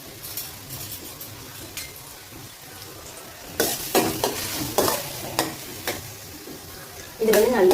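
Chopped big onions and green chillies sauté in hot oil, the sizzle running throughout while a spoon scrapes and stirs the pan in repeated bursts, with clinks against the metal near the end.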